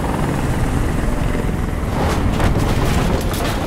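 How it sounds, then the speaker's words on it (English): A helicopter in the video game Detroit: Become Human hovers nearby as a loud, steady rotor roar with broadband wash and rhythmic blade chop, no talk over it. "Get the fucking helicopter out of here!"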